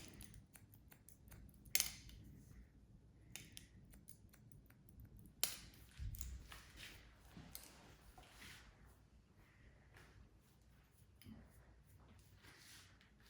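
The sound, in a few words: scissors point cutting hair for an undercut bob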